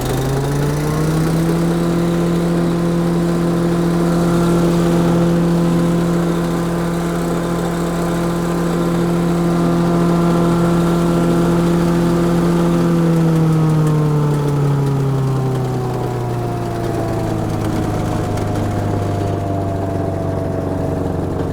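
A replacement engine on a DR chipper, model CP55047BMN, runs loud and steady with a constant droning hum, then eases down to a lower idle partway through.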